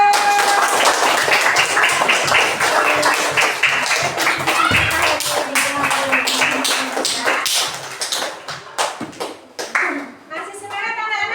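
Classroom applause from students in an Islamic ethics (akidah akhlak) lesson, a burst of rapid clapping and taps that stays loud, then breaks into scattered claps with children's voices mixed in toward the end.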